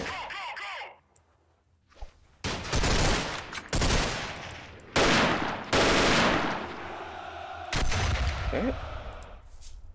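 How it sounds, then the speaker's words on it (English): Bursts of rapid assault rifle gunfire in the Freeman Guerrilla Warfare video game, several loud sustained volleys separated by short pauses, with quieter gameplay sounds between them. "I'm gonna switch to my assault rifle."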